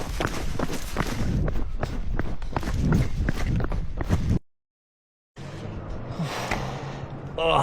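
Someone runs along a trail, fast rhythmic footfalls pounding close by, briefly cut off by a short silence before the movement resumes.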